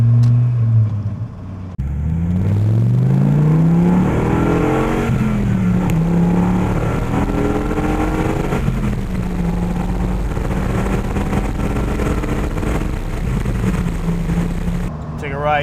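A high-mileage Dodge Viper with 121K miles, engine loud and throbbing throughout while cruising and revving, with rising and falling pitch sweeps as it accelerates and shifts, steady and close, with some talk faintly underneath.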